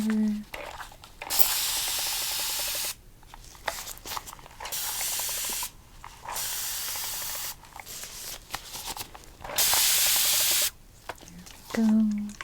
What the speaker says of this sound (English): Spray with cleansing water.